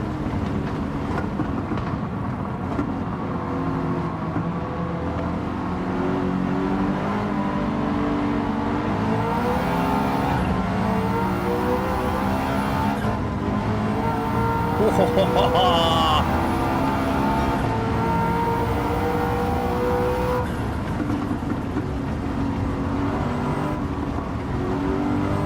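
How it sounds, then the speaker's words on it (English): A 4-litre twin-turbo V8 revs hard in a racing video game, a loud, steady engine drone running throughout with rising and falling pitch, while a person talks over it. "I can hear more of the V8 now"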